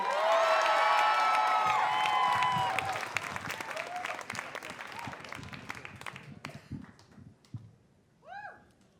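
An audience bursts into applause and cheering for a storyteller on stage, loud and dense at first with whoops over the clapping, then thinning into scattered claps and fading out near the end.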